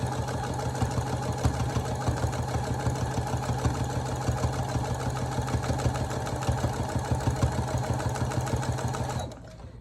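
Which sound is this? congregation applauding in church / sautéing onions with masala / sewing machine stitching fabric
sewing machine stitching fabric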